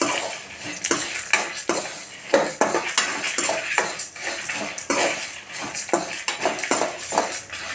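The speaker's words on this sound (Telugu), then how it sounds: "యాడ్ చేసుకొని దీన్ని కూడా బాగా ఫ్రై అవ్వనివ్వండి." Dried red chillies and tamarind fried in a pan while being stirred, with sharp metal scrapes and clinks of a spoon against the pan over a faint sizzle, close and busy in irregular bursts.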